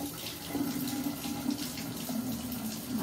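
Lukewarm water runs steadily from a bathroom tap during a face-washing skincare routine, a continuous close splashing stream with no talking.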